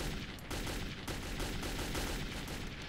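Gunfire from Metro 2033 rattles in a quiet, rapid stream of repeated shots that runs continuously with brief gaps, heard at a distance.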